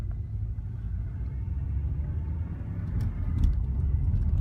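A white 2004 TSX on a test drive gives a steady low engine and road rumble, heard from inside the car with no voices.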